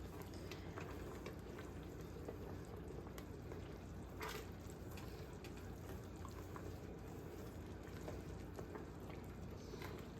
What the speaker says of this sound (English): I just keep stirring so nothing's sticking to the bottom.